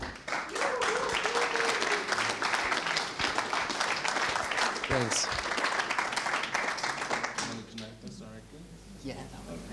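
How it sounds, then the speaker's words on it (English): Loud, dense applause from a convention audience at a European cryptocurrency conference, a steady roar of clapping that fades near the end as a voice briefly speaks. "please give a warm welcome applause"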